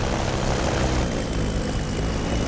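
A P-47 warbird's propeller engine drones at steady throttle in the DCS flight game, a loud, continuous, even roar with no breaks or voices.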